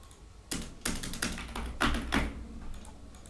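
A computer keyboard is tapped in a few separated bursts of keystrokes, close and fairly quiet, with no speech.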